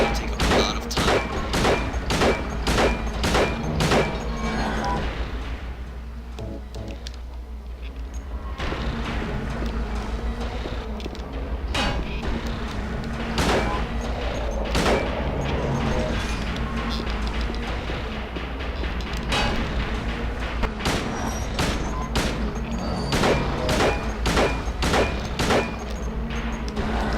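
Rapid bursts of gunfire at a monster in Silent Hill 2: loud repeated shots in quick clusters, a brief lull, then more volleys, with a steady low hum underneath throughout.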